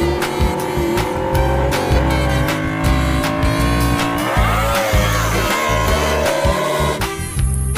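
Loud, close engine roar of a racing motorbike, revving and shifting pitch continuously, with a sharp high squeal near the end.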